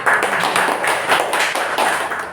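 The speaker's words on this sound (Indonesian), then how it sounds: "Beri tepuk tangan" A school class in Indonesia claps hands together, a fairly loud run of rhythmic, closely spaced claps from a group of people, steady for a couple of seconds with no talking.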